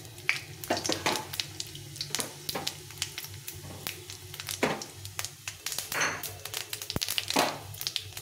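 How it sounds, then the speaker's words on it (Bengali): Dry red chilli, bay leaf, cardamom, cinnamon and cumin seeds crackle softly in hot oil, a faint sizzle punctuated by irregular taps and scrapes of stirring. "একটু ভাজা ভাজা করে নিতে হবে।"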